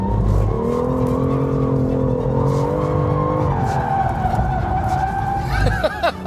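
A BMW M2 CS drifts through a corner, its tires squealing in long sustained tones over a steady engine drone. The squeal rises and wavers near the end as the car exits.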